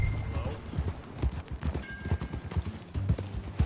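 Rhythmic clip-clop of horse hooves at a steady gait in Red Dead Redemption, fairly close, with a brief whinny-like tone and faint voices in the background.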